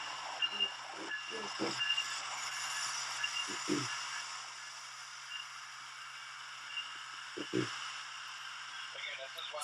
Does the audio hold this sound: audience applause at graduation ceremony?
no